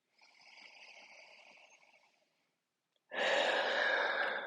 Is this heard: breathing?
yes